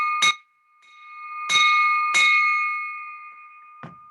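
A hand bell rings at a Rotary Club of Oakland meeting, four bright metallic strikes with long sustained ringing tones, close and clear, the last one softer.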